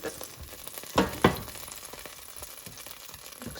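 BBQ baby back ribs being turned in an air fryer: a faint steady sizzle with two quick clinks of the tongs or rack close together near the start, and no talking.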